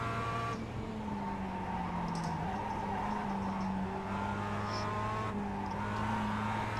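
A sim race car in iRacing drones steadily under load, its engine note rising and sagging through corners with faint tire scrub and squeal, loud and continuous throughout without speech.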